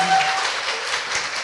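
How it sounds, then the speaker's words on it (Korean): Studio audience at a Korean talk show bursts into applause, a continuous wash of many hands clapping at steady loudness, with a brief tone at the start. "자, 박수"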